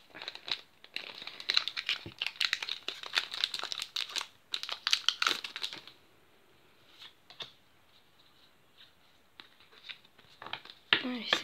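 A Pokémon Evolutions booster pack wrapper is torn open by hand: bursts of close, crisp crinkling and tearing foil, then a quieter stretch and a final sharp crinkle, with a voice at times.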